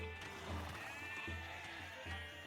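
Sheep bleat in an Age of Empires 2 match, a few short wavering calls heard up close over a soft background tone.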